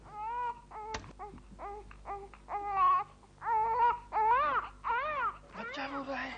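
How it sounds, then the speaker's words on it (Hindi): A baby cries nearby in a series of wailing bursts with short gasping pauses between them, rising in intensity toward the end, heard alone indoors. "बच्चा रो रहा है।"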